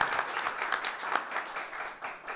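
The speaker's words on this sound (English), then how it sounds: "Let's give him a round of applause." An audience at a school board meeting applauds a 7th-grade student, a steady wash of clapping from many hands that carries on at an even level without a break.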